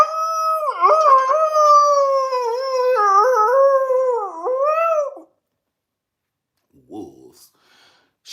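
Wolves howl loudly and close in a sustained, wavering chorus of overlapping long notes with a few sliding pitch dips. The howling stops abruptly, followed by silence and a brief faint whimper or yip.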